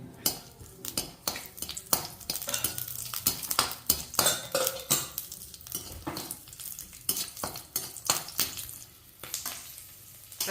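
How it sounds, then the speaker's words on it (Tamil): Garlic and asafoetida frying in a pan, with a rapid run of scraping stirs and spatula knocks against the metal over a bright, crackling sizzle, close and busy throughout. "இப்போ பூண்டு போட்டுக்கிறோம் இந்த பெருங்காயம் போட்டுக்கணும்"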